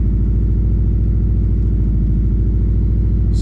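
A Subaru GC8 track car engine runs in gear on a dyno during a mapping session, a loud, steady low rumble with an even pulsing throb, close and unbroken throughout.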